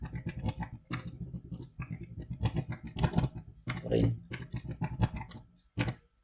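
Computer keyboard keys clatter in quick uneven bursts while a command is typed into a Python programming environment, close and fairly quiet, with brief pauses between flurries of clicks.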